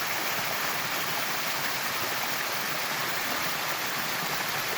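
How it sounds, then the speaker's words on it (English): Artesian waterfall pouring out of a tree stump in a rainforest, a steady close rush of falling water that stays even and full for the whole stretch, with no voices. "this artesian waterfall coming out of the stump"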